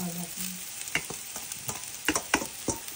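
Hong Kong style noodles frying in an oiled pan, a steady sizzle with repeated scraping and tossing strokes of a utensil against the pan, close and moderately loud with no talk.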